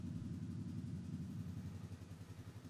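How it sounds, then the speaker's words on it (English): Polaris Ranger 570 mid-size side-by-side engine idling during an oil change, a low, steady rumble with a faint clattering pulse, close and fairly quiet throughout. "Start the engine and allow it to idle for 1 to 2 minutes."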